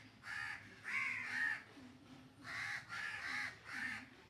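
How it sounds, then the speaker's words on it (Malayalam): Several crows caw loudly outdoors in repeated bursts of harsh calls with short pauses between them, and no voices over them. "കാക്കകൾ കിടന്ന് ഭയങ്കര ബഹളമായിരുന്നേ"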